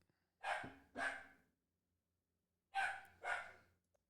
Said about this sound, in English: I heard a little woof.